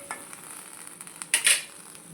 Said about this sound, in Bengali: মশলাটা ভালো করে ভেজে নেওয়ার জন্য আমি একটু জল দিয়ে দিলাম